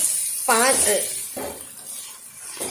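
Chicken karahi, Shinwari Balochi style, fries in a pan with a steady hiss and sizzle. A few scraping stirs can be heard, and a voice talks over the cooking.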